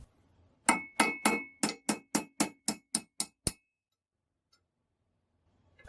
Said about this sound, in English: I'll get it back into the vise and drive the rear sight spring forward.